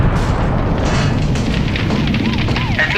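Explosion in the video game Outward: a loud, sustained rumbling boom with a crackling roar and faint whistling tones, filling all three seconds.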